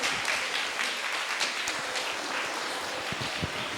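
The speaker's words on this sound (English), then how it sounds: "can we please clap for our quiz master, Dr. Susan Matthew." An audience claps loudly and steadily for a quiz master at an Independence Day celebration quiz, with dense, continuous applause throughout and no speech.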